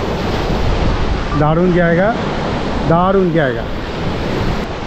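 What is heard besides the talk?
sea waves washing onto a beach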